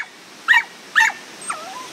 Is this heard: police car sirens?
no